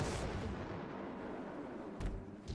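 Airstrike explosions in a video game rumble and boom heavily, with a sustained rolling blast followed by another sharp detonation near the end, loud and close with no talk.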